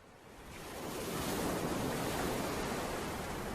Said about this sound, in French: il leur faut apprivoiser le violent ressac de la côte